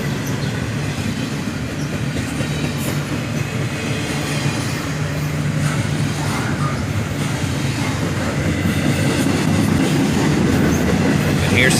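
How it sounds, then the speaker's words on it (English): A freight train led by an SD40-2 diesel locomotive hauling intermodal cars rumbles past steadily, with a low engine drone, rolling wheel clatter and constant heavy noise, loud and close the whole time. "the single SD40-2 brings this big intermodal train into Carlisle siding"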